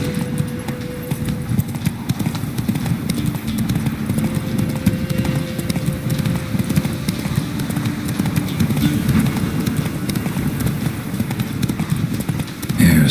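Roach the horse gallops in The Witcher 3, with steady, rhythmic hoofbeats running continuously, fairly close, over faint sustained background tones.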